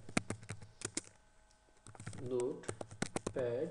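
A command being typed on a computer keyboard, heard as quick, crisp key clicks in uneven bursts that sound close. A voice talks over the typing in places.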